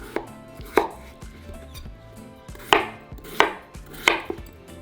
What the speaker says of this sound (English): now we're just going to cut our potato into small pieces